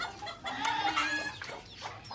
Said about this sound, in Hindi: ये मुर्गी ने मारा हुआ किसी को, अपने बच्चों को बचाने के लिए।